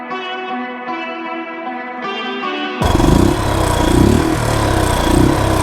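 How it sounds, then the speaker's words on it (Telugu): A Royal Enfield Classic 350 motorcycle with a five-speed gearbox runs its single-cylinder engine, a loud, deep, thumping exhaust rumble with pulsing beats that starts abruptly after a few seconds of echoing tonal music. "ఫిల్టర్ సౌండ్ అయితే కొంచెం ఎక్కువ వస్తుంది అనమాట"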